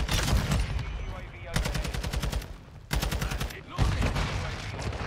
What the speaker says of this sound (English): Oh, it's like a full auto pistol.